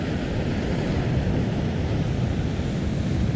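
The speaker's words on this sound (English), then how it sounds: "here comes some more water rushing in right now" Ocean surf rushes in over coastal rocks, a deep, continuous churning roar of water with wind buffeting the microphone, steady and close without any voices.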